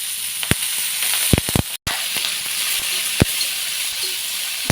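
Green chillies frying in oil on a griddle give a steady close sizzle and hiss, broken by sharp spits and pops scattered through the run and one brief dropout.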